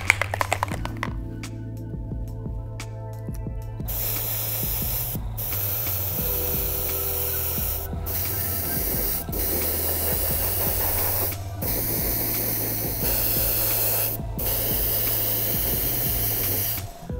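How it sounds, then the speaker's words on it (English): An airbrush sprays opaque black paint over the inside of a custom Air Jordan 3 shoe: a steady close hiss that runs in long bursts with brief pauses between them, and no talking. "using some opaque black, we're gonna airbrush the entire inside of the shoe"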